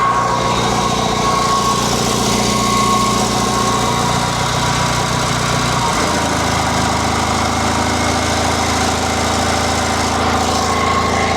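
A steady mid-pitched JAP stationary engine drones continuously up close, running a lighting generator powering 1,000-watt halogen bulbs, its tone dropping slightly partway through but never stopping.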